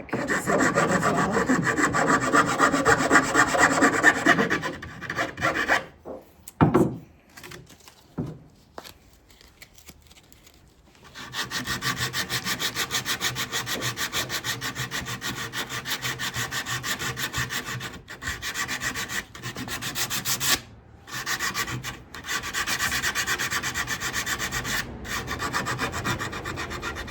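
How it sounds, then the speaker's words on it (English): Hand file rasping an angled bevel on wooden kitchen furniture during a woodwork repair, steady back-and-forth rubbing strokes, close and fairly loud, with a short pause near the middle before the filing resumes. "I'm going to take my file at an angle and kind of work that part back just a little bit as well."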